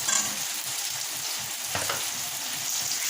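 Fish and a fish head frying in a pan, a quiet continuous crackling sizzle with a soft stirring scrape midway, close and steady with no voices.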